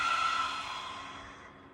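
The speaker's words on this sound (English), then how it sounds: "Let's breathe that lion's breath out." A forceful yoga lion's breath exhale, a single long breathy rush of air that starts strong and slowly fades over nearly two seconds, heard close and alone.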